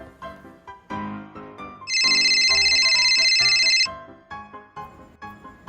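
A mobile phone ringtone rings loudly and steadily for about two seconds, a bright repeating electronic tone that stands out over a music-like background before and after.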